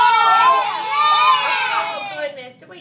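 Children in a classroom shout out loud together, a dense burst of many young voices yelling at once, close and loud, fading off in the final moments.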